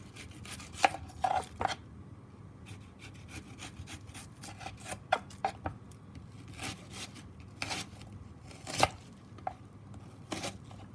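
An onion sliced with a knife on a board, heard as a run of sharp, irregular chopping taps over about eleven seconds, close but fairly quiet and without talk.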